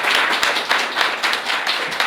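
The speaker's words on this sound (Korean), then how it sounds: "너무 좋은 말씀해 주신 우리 고영주 변호사님, 그 다음에 우리 석동현 변호사님께 다시 한번 뜨거운 박수 부탁드리겠습니다." An audience at the launch of a People Power Party rank-and-file members' council gives steady, dense applause for two seconds, with many hands clapping close together and no voices.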